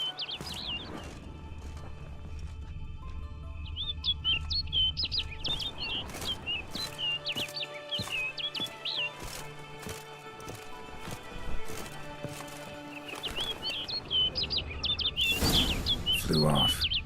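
Bird in The Witcher 3: Blood and Wine, chirping in quick repeated bursts at the start and again near the end, mixed with wing flaps, over low game ambience with occasional hoof-like clopping.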